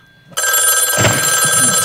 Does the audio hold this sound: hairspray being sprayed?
no